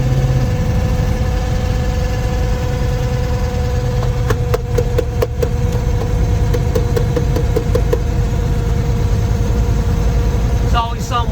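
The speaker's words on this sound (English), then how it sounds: "that's the speedometer gear in there whining" A 1972 Dodge Charger engine idles steadily up close, a constant low rumble with a thin whine from the speedometer gear running through it and a few brief clicks near the middle.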